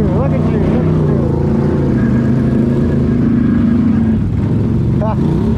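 A Can-Am off-road vehicle revs loud and steady at close range, its engine note rising and falling as it spins out, with a voice talking over it.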